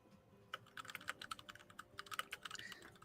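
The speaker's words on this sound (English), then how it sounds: "I love your keyboard." Fingers type quickly on a tactile computer keyboard, giving a steady run of sharp, close clicks with uneven rhythm and no voices over it.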